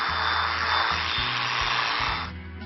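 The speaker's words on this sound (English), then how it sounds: "When I use the big clippers," Large electric clippers body clipping a horse, a steady loud close buzzing hum that runs continuously and stops abruptly near the end, with no talking.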